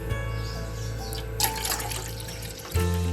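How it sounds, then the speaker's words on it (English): Milk pours into a pot on the stove, a soft trickling stream under a steady hum of background noise, with faint chirps and a brief clatter. "We pour the milk into the stove."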